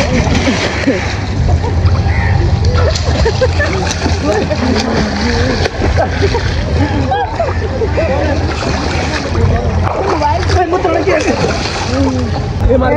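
Water splashing and sloshing as people bathe in a pool at a water park lagoon in Karachi, a steady busy wash of splashes close by, with voices talking and calling throughout.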